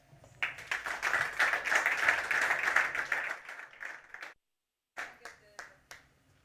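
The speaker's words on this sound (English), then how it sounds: "Please give your round of applause to Lydia Greshina," Audience applause welcomes a speaker at a tourism tech hangout event, a steady burst of many hands clapping for several seconds before stopping, then a few scattered late claps.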